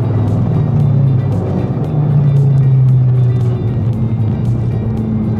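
A race car with two people aboard drones loudly and continuously as it accelerates on the Tsukuba circuit, heard from inside the cabin with a rising engine tone.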